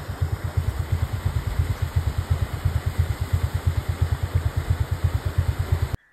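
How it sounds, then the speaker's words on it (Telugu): A motor-driven paddle aerator churns a prawn pond in Nellore with a steady, rhythmic chugging pulse that repeats quickly and evenly, close and moderately loud, with no voices, until it cuts off abruptly at the end. "రొయ్యలకి పైన ఈ మోటార్ ఇది తిరగడం వల్ల అలజడి ఉంటుంది అనమాట."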